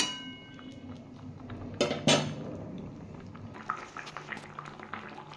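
A fish broth with lentils, potato and brinjal bubbles softly in a pot, a faint simmer broken by a couple of sharp clanks of a utensil against the pot.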